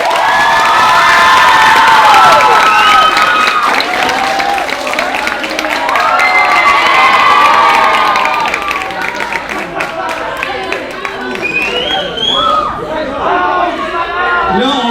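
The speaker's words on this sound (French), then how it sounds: "tout le monde, vous pouvez vous applaudir" A crowd of 2020-21 graduates at their diploma ceremony claps and cheers loudly, with high shouts and whoops rising over sustained applause and chatter, easing off briefly midway before swelling again.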